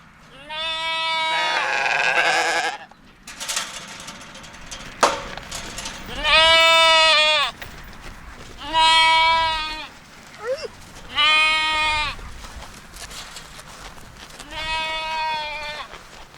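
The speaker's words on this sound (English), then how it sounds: "I'm going to let the sheep out" Sheep let out to graze on fresh grass bleat loudly and close by in a series of long, wavering calls separated by pauses, with a rustle and a knock between them.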